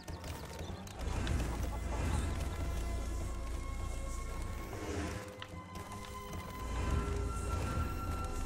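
Chickens cluck amid the busy, mechanical game sounds of LEGO Avengers, with clatter and ratcheting effects layered over a constant loud soundtrack.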